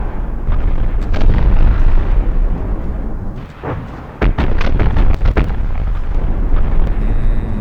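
Battleship guns fire in a naval warfare game set in 1915, with heavy booming blasts over a dense, continuous roar, a brief lull, then a rapid cluster of sharp reports, all very loud.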